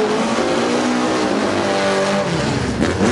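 Drag racing car launching hard at a Bug Jam event, a loud sustained engine roar with dense harmonic revving that holds steady throughout, no talk over it.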